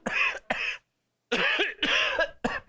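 An older man coughing indoors, a series of harsh, close coughs in bursts with a brief pause midway, alone without talk.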